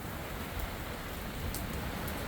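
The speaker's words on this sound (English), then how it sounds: "If you guys can hear that, that's rain, thunder, lightning." Rain falls steadily during a thunderstorm in Utah, a continuous broadband hiss with a few faint higher clicks and no talk.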